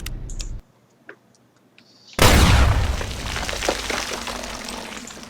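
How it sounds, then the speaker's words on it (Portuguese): An enemy blows himself up in Fallout: New Vegas, a sudden loud explosion that bursts in after a few faint clicks and near-silence, then rumbles and decays over several seconds. "Maluco, ele fica se explodindo à toa."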